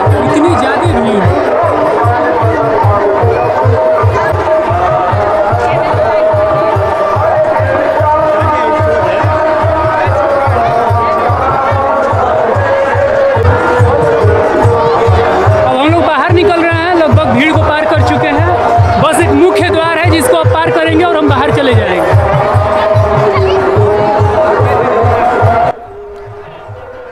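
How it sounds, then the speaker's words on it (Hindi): A large, dense crowd murmurs steadily at a yagya festival in Ballia, a continuous loud babble of many voices that stays unbroken for nearly the whole stretch before dropping away near the end. "आप देख सकते हैं सामने कितनी ज़्यादा भीड़ है"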